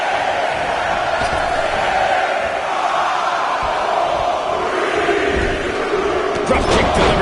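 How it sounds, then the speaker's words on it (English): Arena crowd roaring steadily throughout a WWE 2K19 wrestling match, a dense continuous wall of cheering and shouting with a commentator's voice running under it. "Listen to this crowd."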